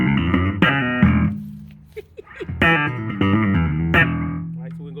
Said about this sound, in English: Now this bass is a lot more nasty.